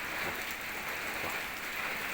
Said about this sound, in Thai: ฝนตกพี่น้องฝนตก น้ำ น้ำนอง น้ำไหลบ้านกันเลย